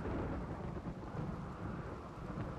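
Steady rain with rolling thunder in the video game RimWorld, a loud, continuous broadband wash that persists through the whole stretch without any voices.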